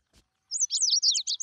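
Little cartoon birds chirp in a quick, bright run of high tweets after a brief soft tap, close and clear with no talking.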